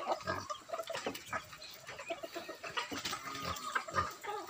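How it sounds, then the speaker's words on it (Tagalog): Farm chickens kept with turkeys, clucking and calling in scattered bursts amid a busy, noisy yard, fairly close, with no clear talk. "Yung mga alaga namin manok"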